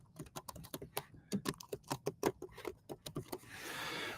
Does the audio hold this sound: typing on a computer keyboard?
yes